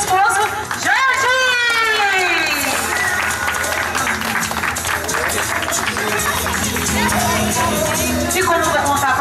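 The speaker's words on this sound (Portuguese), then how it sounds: "merece uma salva de palmas" Guests clapping at an evangelical wedding anniversary tribute in Guarulhos, a loud, sustained round of applause with cheering voices and crowd chatter mixed in.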